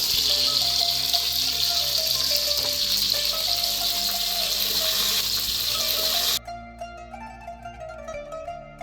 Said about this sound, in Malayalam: ഇതുപോലെ നാല് പീസും ഞാൻ വറുത്തെടുക്കാൻ പോവാണ്